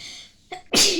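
A single sharp human sneeze bursts out loudly near the end, preceded by a brief intake of breath, with nothing else heard.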